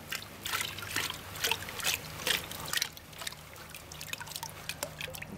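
Water trickling and sloshing as gravel and sediment are swirled in a gold pan during panning, a steady run of soft splashes and drips at close range with no talk.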